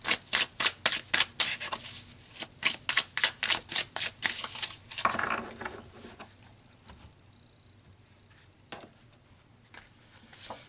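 Tarot cards being shuffled and pulled, a quick run of crisp riffling flicks for about five seconds, then softer scattered slides and taps as cards are drawn, close and fairly quiet with no talk.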